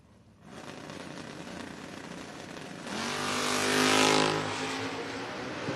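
Drag race launch of a Ford Mustang against a pickup truck at a door-wars event: engines idle loudly, then surge into a roaring launch that builds and peaks before easing off.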